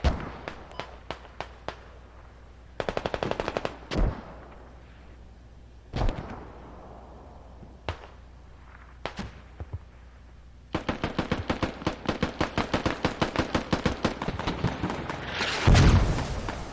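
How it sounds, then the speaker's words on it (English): A video game battle with mortar fire and gunfire: scattered sharp shots, short automatic bursts, a few heavy booms, then a long dense run of rapid fire near the end. "Here come mortars."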